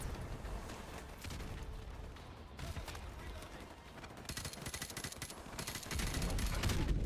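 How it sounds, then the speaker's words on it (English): Heavy rapid gunfire in Call of Duty 4: Modern Warfare Remastered, sustained automatic bursts and booms rattling under voices, growing louder toward the end. "Taking heavy fire."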